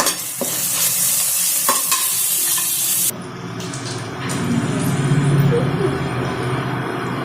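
Ginger garlic paste frying with onions for a tomato biryani, stirred in the pan: loud scraping stir strokes over a crackling sizzle, then a shift to a softer frying hiss with running-water sounds and faint background voices.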